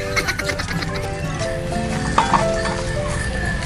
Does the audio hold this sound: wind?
no